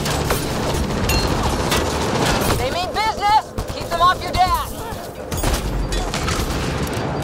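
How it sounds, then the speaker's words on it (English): Combat gunfire in Mass Effect Andromeda: dense, loud volleys of shots and booms rattle on continuously, briefly thinning midway while a voice talks over the fighting, then returning at full intensity. "Jesus Christ, and I'm getting shot already"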